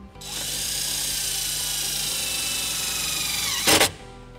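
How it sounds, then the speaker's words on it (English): A power drill drives a self-tapping screw into sheet metal on a 2019 Nissan Murano to ground a wiring harness wire, giving a steady high whine for about three seconds that ends in a brief louder burst as the screw seats. "using the included self-tapping screw, we're gonna go ahead and ground our white wire to this sheet metal right here"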